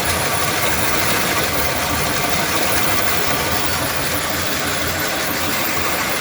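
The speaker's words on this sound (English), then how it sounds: "Well, this is my differential analyzer" A Meccano differential analyser mechanism running, its integrators, chains and plotter driven together, giving a steady, dense mechanical whirring and rattling that stays loud and even throughout.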